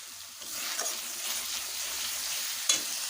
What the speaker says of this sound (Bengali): ভালোভাবে কষে নেব